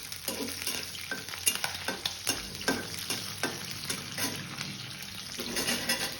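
Garlic cloves, ginger, green chilli, cloves, cinnamon and red chilli fry in hot oil for a Bangalore-style pani puri curry: a constant close sizzle punctuated by regular scraping taps of a stirring spoon against the pan.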